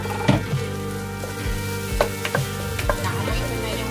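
Garlic and chili sizzle steadily in a hot pan while cooking ginataang hipon, shrimp in coconut milk, with a few sharper crackles under continuous background music.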